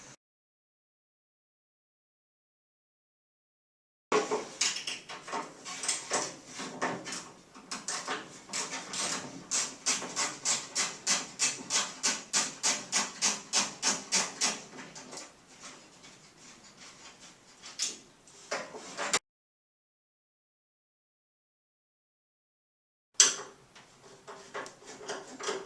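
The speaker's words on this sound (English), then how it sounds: "That way I have some control of the door handle while I loosen this last one, and then I should be able to pull the door handle right out." A Ford Mustang door handle being unscrewed and worked loose, a fast run of clicking ratchet turns followed by scraping and rattling metal, close and fairly loud, with short silent gaps between.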